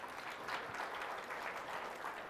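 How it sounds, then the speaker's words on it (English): A short stretch of steady audience applause at a panel discussion, a dense, even wash of clapping at moderate distance and fairly quiet, with no voices on top. "Round of applause"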